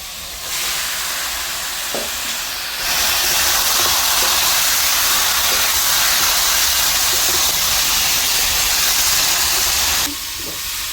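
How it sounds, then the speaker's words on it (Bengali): Pieces of chicken meat drop into hot spiced oil in a pan and break into a loud, steady, close sizzle that hisses continuously and then cuts off. "মশলাটা কষানো হয়ে গেছে, দেখেন তেলটা উপরে ছেড়ে গেছে, কিছু সময় ভিতরে তেল আছে। এখন আমি মাংসগুলি দিয়ে দেবো।"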